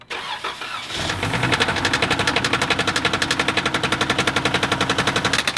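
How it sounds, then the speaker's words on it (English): A car engine ruined by water cranks for about a second, then catches and runs with a heavy, rhythmic rod knock: fast, evenly spaced metallic thuds, loud and close, with no voices. "That horrible knocking noise you hear is rod knock."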